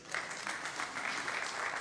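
An audience applauds at an art exhibition opening, giving a steady, fairly soft wash of many hands clapping in a continuous rhythm with no clear talk on top.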